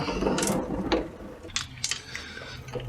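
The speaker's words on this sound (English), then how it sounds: "So again, I'm just going to crank this down to 29 foot-pounds." A ratchet clicks in short bursts while tightening the front differential drain plug on a third-generation Toyota 4Runner, close mechanical clatter in uneven strokes.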